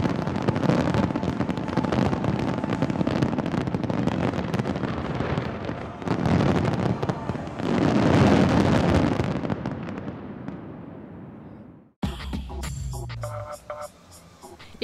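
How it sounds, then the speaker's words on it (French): Fireworks at an international pyromusical fireworks competition in Monaco roar in a dense, continuous rumble of bursts and crackles that swells, fades and then cuts to a different, sharper passage near the end, loud and heard without talk. "ce concours international de feux d'artifice pyromélodique"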